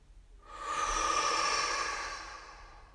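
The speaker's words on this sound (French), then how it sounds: "Je vous propose une grande inspiration par le nez, expiration par la bouche" A single slow, deep breath drawn in through the nose and released through the mouth, a soft airy rush that swells and fades over a few seconds, close and alone in a quiet room.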